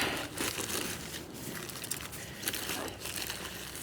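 Someone digs through a bag for keys after a hike on Palomar Mountain, producing close, continuous crinkling and rustling of fabric and plastic with small bumps and scrapes.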